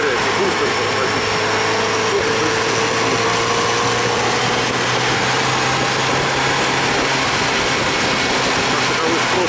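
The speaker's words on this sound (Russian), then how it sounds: "Мотоцикл легкий, ускоряется быстро, тормозит." A light Kawasaki Z900RS motorcycle engine runs steadily throughout, its drone rising and falling as the bike rides through a city and picks up speed, with road noise beneath.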